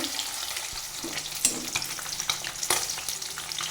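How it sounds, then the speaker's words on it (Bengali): Fish fries in hot oil in a pan with a steady, fairly quiet sizzle, broken by sharp crackles and pops and a few stirring clicks, with no talk. "মাছ ভাজাটা হয়ে গেছে।"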